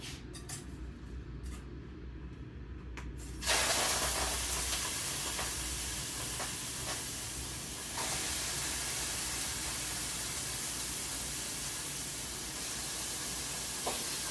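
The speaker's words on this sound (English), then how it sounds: "you hear that lovely sizzling sound" Steady, loud sizzling from a hot pan during vegan cooking fills the clip, jumping up sharply after a few seconds as food hits the oil and then hissing continuously.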